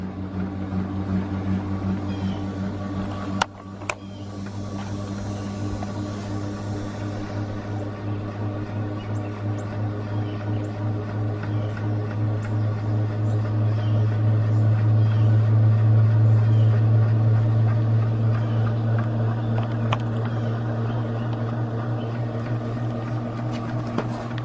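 A homemade free-electricity generator spinning up, with a steady mechanical hum and low drone that swells louder and higher over time, plus a couple of brief clicks early on.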